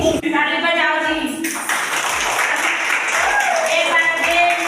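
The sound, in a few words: clapping at a birthday celebration in an Anganwadi centre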